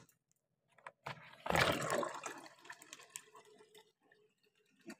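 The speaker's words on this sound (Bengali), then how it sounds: "তো আমি জলটা ভরে নেবো।" Water pours into a bottle from a refrigerator dispenser, a short gurgling splash that rises then fades, followed by faint clinks and handling noises in a quiet room.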